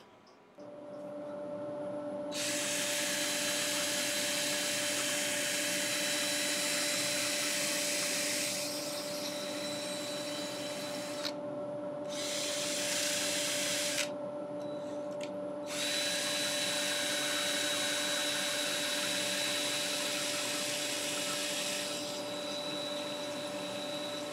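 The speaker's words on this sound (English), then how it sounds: "I'm going to get this sanded" A natural live-edge winged wooden bowl is sanded while it spins on a woodturning lathe, a loud steady motor whine overlaid by bursts of harsh hissing abrasion that start, pause briefly and resume over a long stretch.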